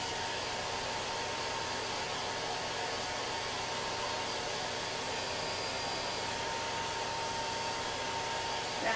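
A hair dryer blows steadily on chalk paste, producing an unbroken, fairly loud whirring hiss with no change in pitch or level throughout and no voices.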